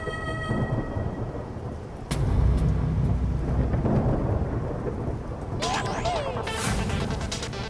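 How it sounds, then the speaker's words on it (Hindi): Heavy rain pours steadily outside while thunder rumbles and cracks loudly, with a sharp crash partway through, broadband and dense throughout; brief faint tonal sounds surface near the end. "वाह, बाहर मस्त बारिश हो रही है।"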